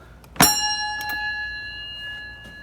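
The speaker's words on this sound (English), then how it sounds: "I'm going to ring the doorbell," An old doorbell at an 1871 mansion, DeBary Hall in Florida, gives a single bright strike; its clear metallic tone lingers and slowly fades, followed by a couple of fainter taps.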